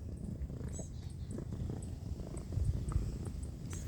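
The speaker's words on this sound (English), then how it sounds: "Mackie's got a good purr going" A cat named Mackie purrs close and steady, a low rhythmic rumble with faint small clicks above it and no talking.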